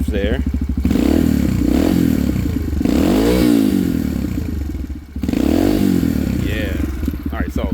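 Close-up Yamaha TTR-125 big bore four-stroke with FMF exhaust, idling then given a few short throttle blips that rise and fall, with light mechanical clatter between revs.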